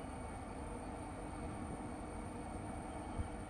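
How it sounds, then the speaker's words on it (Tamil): A Chennai Beach to Tambaram fast local train running in Train Simulator (Railworks 3), giving a continuous, loud rumbling rail drone with a constant level and a single small knock near the end, no talking. "so right now train just started on Palur"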